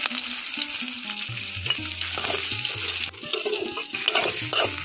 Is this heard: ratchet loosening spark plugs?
no